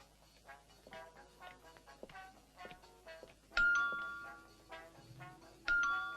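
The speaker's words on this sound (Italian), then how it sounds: "Menica, il campanello." A two-tone doorbell chime rings twice in an Italian home, each ding-dong sharp and clear, following a stretch of quieter background music and household sounds.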